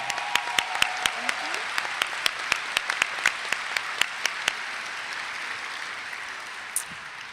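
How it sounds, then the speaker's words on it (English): Commencement audience at a medical school graduation breaks into applause: a dense, steady wash of many hands clapping with sharp individual claps popping out, fading toward the end. "So if we could give them a round of applause really quickly."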